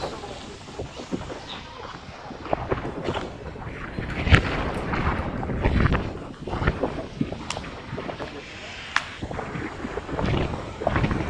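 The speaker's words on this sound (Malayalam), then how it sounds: "നല്ല കാറ്റുണ്ട് കേട്ടോ." Strong wind near the beach at Vizhinjam lighthouse, at the foot of the tower, roars and buffets the microphone in uneven gusts with low rumbling bursts for the whole stretch, loud and close.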